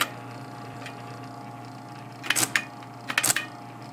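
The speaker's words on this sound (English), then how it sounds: "It's moving back once and then typing what it thinks is the previous letter." An IBM Electronic Typewriter 85 backs up one space and strikes a character again, giving two short clusters of sharp mechanical clacks late in the clip over a steady low motor hum.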